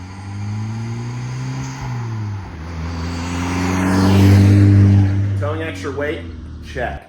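Volkswagen Golf R towing a trailer, its engine a steady droning hum that swells as it accelerates, with a voice briefly speaking near the end.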